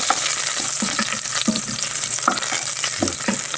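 Ingredients fry in a pan while being stirred, a constant close sizzle punctuated by quick rhythmic scraping strokes of the spoon, with no talking.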